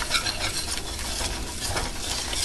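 Flour is stirred into a bubbling roux in a pan, a continuous close scraping and soft sizzle with quick rhythmic strokes throughout.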